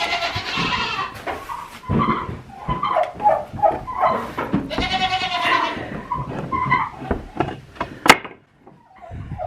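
Farm goats bleat at feeding time, a busy chorus of wavering cries overlapping through the whole stretch, close and loud, with a sharp knock near the end and no voices.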